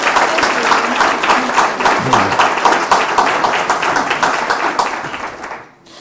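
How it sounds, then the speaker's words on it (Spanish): Loud, dense applause from a congregation at a Catholic religious gathering, steady rapid clapping filling the space for several seconds before tapering off abruptly at the end. "Den un fuerte aplauso a nuestro Señor Jesucristo."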